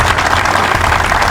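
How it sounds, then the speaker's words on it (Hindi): Audience clapping at a Himalayan-themed team-survival entertainment show after three teams are announced, a dense, steady wash of applause filling the whole short moment with no voices over it. "प्लीज अपने लिए जोरदार तालियां बजाएं।"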